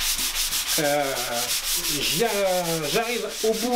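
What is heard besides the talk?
sanding the wooden finish of a stool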